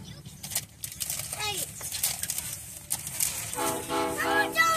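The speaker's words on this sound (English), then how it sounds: "One, two short honks." Two short train horn honks from a Canadian National grain train sound close by over rumbling rail noise while it switches tracks in Effingham, Illinois, with a voice briefly heard.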